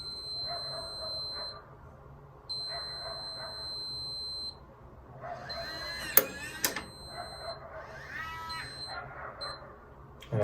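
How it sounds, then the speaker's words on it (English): Alarm on a Hugolog HU03 smart lock going off: a piercing high-pitched tone sounding in long, evenly repeated bursts, fairly quiet overall, with a few sharp clattering noises partway through. "we get a notification that the alarm is going off"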